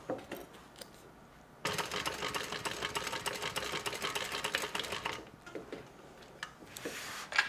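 A sewing machine stitches a tote bag, starting abruptly after a quiet pause and running in a loud, fast, rattling burst for several seconds, then stopping, followed by softer handling noises and a brief restart.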